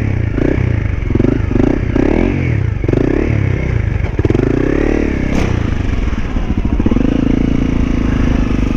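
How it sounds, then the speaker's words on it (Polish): Motorcycle ridden uphill in a park, its engine revving and bogging down with choppy bursts and clattering, close and loud, the revs faltering as it nearly stalls. "Pod górkę i wiecie, motocykl po prostu się zatrzymuje."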